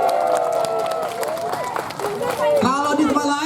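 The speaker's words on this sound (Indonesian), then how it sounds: "tepuk tangan dong orang Bekasi" Audience members from Bekasi at a Ramadan welcome gathering in a mosque clap and cheer in a dense, continuous wash of applause, with crowd voices and babble mixed throughout.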